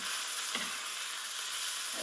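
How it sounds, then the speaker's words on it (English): Fresh basil and oregano are stirred into a sauce in a pan, giving a steady low sizzle with two brief scrapes of the spoon, close and without talk. "So we're just going to stir that in"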